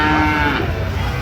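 A Friesian bull calf moos at Aftabganj cattle market in Dinajpur, a single loud, close, tonal moo that fades out within about a second.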